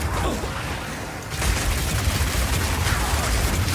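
A crossbow-launched grenade in Path of Exile bursts after a short delay: a sudden loud blast about a third of the way in, followed by a sustained rumbling, crackling wash of noise.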